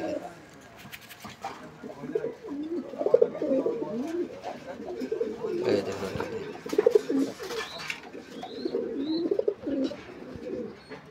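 Coloured Rajgolla pigeons, a sky-blue pair, give repeated throaty coos in close, rhythmic bursts. A few faint chirps and some background murmur sit under them.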